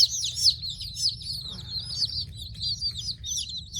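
Young ducklings and chicks, including a Welsh Harlequin duckling, peep in a brooder with a heating pad, with rapid high chirps repeating nearby over a low steady hum.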